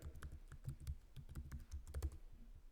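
Quick bursts of keystrokes on a computer keyboard, close and fairly quiet, with uneven clicking rhythm and brief pauses between words.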